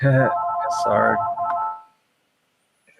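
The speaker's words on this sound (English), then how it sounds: "I love the old timey phone." An old-fashioned telephone rings with a bright, rattling bell tone for nearly two seconds before cutting off into silence, while a voice briefly speaks over the start of it.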